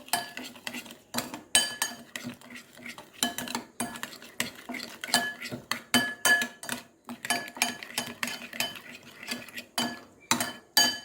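A spoon stirs Korean chicken sauce with syrup and chilli oil in a bowl, making quick, rhythmic metal clinks and scrapes in irregular bursts, close and clear with no talking.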